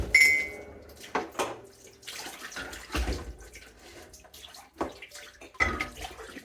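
Dishes being washed up under running water in a sink, with splashing, clinks and trickling in irregular bursts, close and fairly quiet, without talk.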